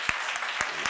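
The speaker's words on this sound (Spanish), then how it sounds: "aplauso de rigor" A room audience claps after a lecture on newspaper columns, a brief steady patter of applause with a few sharper individual claps standing out.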